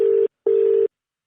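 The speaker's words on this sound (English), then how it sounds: "It's ringing." Outgoing phone call ringback tone: two steady electronic rings, the first short and the second longer, separated by a brief gap, clear and close with no talking.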